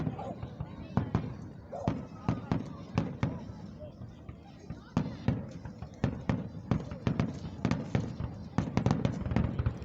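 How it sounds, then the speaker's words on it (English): A 4th of July Independence Day fireworks show in Van Wert, Ohio, with a rapid series of sharp booms and crackling bursts at varying distances, while people talk nearby. "It's time for the fireworks show, folks."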